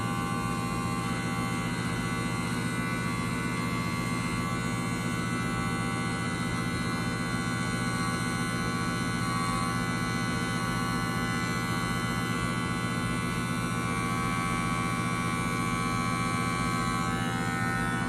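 Electric hair clippers with the lever fully open run steadily while cutting hair, a continuous close buzzing hum that holds without a break and with no talk.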